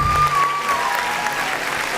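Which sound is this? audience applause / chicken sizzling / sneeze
audience applause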